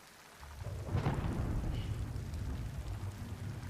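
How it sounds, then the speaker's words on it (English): Steady video-game rain pours down while a low roll of thunder swells and rumbles on underneath, with no voices. "And then the rain, of course, is like acid or something."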